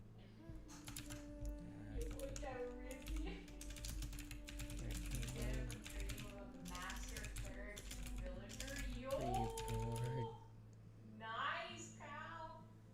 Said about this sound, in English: I really like mechanical keyboards